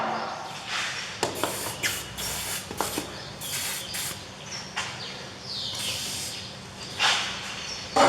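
Penetrating lubricant sprayed onto the wheel bearing bolts of a Peugeot 308, several short hissing bursts and a few longer ones, close up and uneven in rhythm.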